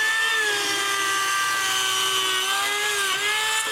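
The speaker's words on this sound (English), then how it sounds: "And I drill the hole where the eye screw is going to go." A small power drill bores a hole for an eye screw, its high whine holding steady pitch with slight dips as it bites, loud and close with no talk.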